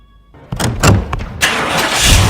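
A car engine cranks and catches in a tense Hindi film scene: a sharp burst of noise, a brief dip, then a second surge that settles into a loud, steady running rumble.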